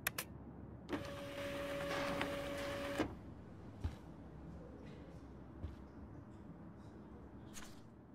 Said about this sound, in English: Now I have to print this fast and get the hell out of here.